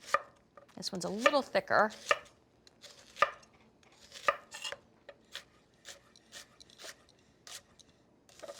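Knife thuds of onions being chopped on a board for caramelized onions, a quick cluster of cuts followed by sparser, evenly spaced chops, with a brief spoken remark over the first strokes.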